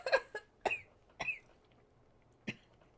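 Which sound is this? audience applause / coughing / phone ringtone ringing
coughing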